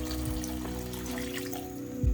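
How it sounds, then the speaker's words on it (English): Water pours steadily into a cooking pot of simmering butter chicken sauce and vegetables, a continuous close splash and trickle lasting a couple of seconds, with faint background music. "I'll add in more water."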